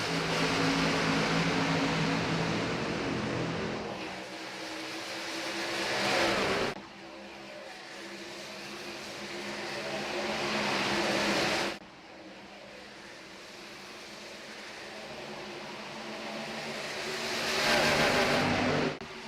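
Race trucks roar around Auto Club Speedway in a sim race, a dense, loud engine drone that rises and falls as packs of trucks sweep past in three long passes.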